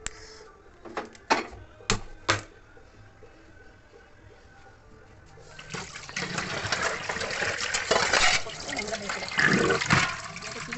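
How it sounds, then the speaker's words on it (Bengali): Water runs from a tap in a home kitchen where chicken is being cooked, a loud continuous gush that starts partway through after several sharp clicks and knocks. "দাঁড়া কলটা বন্ধ করে যাই"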